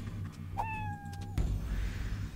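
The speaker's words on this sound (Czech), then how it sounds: "Moje krátkosrstá britská kočka" A British shorthair cat from the Fallout Shelter video game gives one clear, drawn-out meow, followed by a thump and low background game ambience, with no speech.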